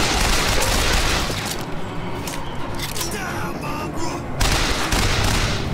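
Dense bursts of rapid gunfire in the video game BioShock Infinite crackle and thud in a chaotic barrage, easing briefly in the middle before picking up again.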